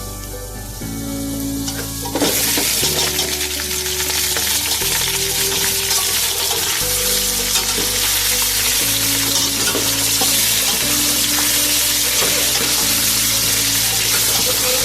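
Sliced potatoes frying in hot oil with lightly browned onions: a steady, loud sizzle that swells sharply after the first couple of seconds as the potatoes go in, with background music and occasional stirring scrapes.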